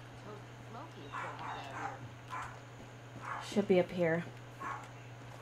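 A dog barks in the room during Far Cry 5 gameplay, a few sharp yips and barks clustered near the middle under a person's brief speech.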